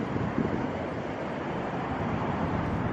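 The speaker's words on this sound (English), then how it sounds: "Hear that wind blowing." Wind blowing outdoors in the Utah urban outback, heard as a steady broadband rush that stays even and fairly faint for the whole stretch, with no distinct gusts and no talk.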